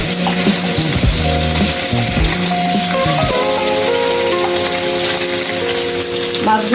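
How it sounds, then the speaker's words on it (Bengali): Gulsha tengra fish fry in oil in a pan, giving a loud, dense, continuous sizzle with crackling close up for the whole stretch and no talk over it. "সবগুলো মাছ আমি দিয়ে আস্তে আস্তে ভেজে নেব কিছুক্ষণ।"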